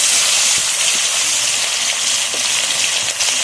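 Fresh live black carp from a pond hit hot oil over a lit stove, giving a steady, loud sizzling hiss that holds for the whole stretch, with a few faint knocks underneath.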